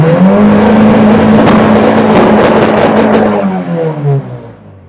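A turbocharged Honda Civic EM1 engine revs loudly and close as it builds boost, holding a strained, sustained roar that climbs slightly, then winds down at the end.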